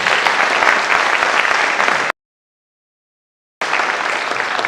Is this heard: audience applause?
yes